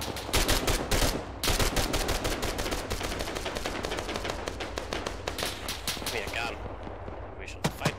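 Heavy gunfire in the military video game Arma during a close protection mission, with dense, rapid automatic bursts crackling loudly and almost without pause, then thinning toward the end.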